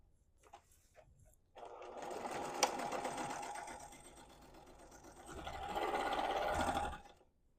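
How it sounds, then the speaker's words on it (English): A home sewing machine runs steady topstitching a quarter inch from the edge of a reversible apron, whirring continuously for several seconds, easing briefly and then speeding up again before stopping, with no talk over it. "you're going to top stitch all the way around the edge at a 1/4 inch seam allowance from the edge"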